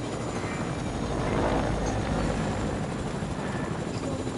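A helicopter in a video game drones with a steady, loud rotor and engine rumble, continuous and close throughout, with no talking.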